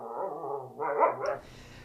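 A dog gives a short run of close, loud barks and yips, two or three bursts within two seconds, ending abruptly, with no talking.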